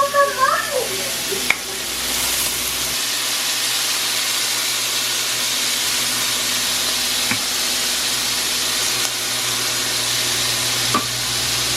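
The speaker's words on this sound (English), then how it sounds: "Sauteed the shrimp just for a couple minutes, and then I steam the broccoli in the microwave" Steady sizzling and hissing from shrimp sautéing in a hot pan, with occasional stirring clinks, continuous and fairly loud throughout.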